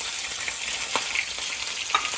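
Fresh spinach leaves sizzling and frying in hot olive oil for a low-carb veggie quesadilla, a steady bright crackle with occasional stirring pops, close and moderately loud.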